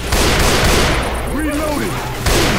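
Dense gunfire in the zombie shooter Left 4 Dead 2 rattles continuously, loud and close, with a player voice talking over the shots.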